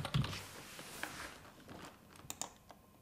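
Quiet clicks of typing on a computer keyboard, a short run of irregular taps, faint and close.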